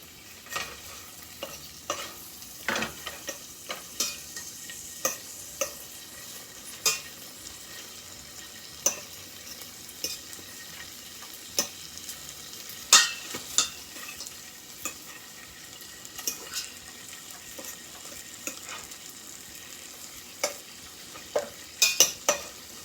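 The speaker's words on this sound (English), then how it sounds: "Nothing like the sound and the smell of bacon frying." A soft, steady sizzle of bacon frying, with frequent sharp clicks and scrapes of utensils against a pan, no voices.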